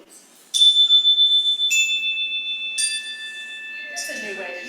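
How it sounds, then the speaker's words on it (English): Church chimes are struck one after another, four clear ringing tones, each sustaining and fading in long overlapping decays, with a faint voice murmuring near the end. "Go ahead, just ring the chimes."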